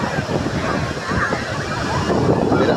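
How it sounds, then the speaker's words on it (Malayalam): Strong sea waves surge and crash at Kovalam beach in a steady, loud roar, with wind buffeting the microphone throughout and voices faintly mixed into the surf. "അതികഠിനമായ തിരമാല കേട്ടോ."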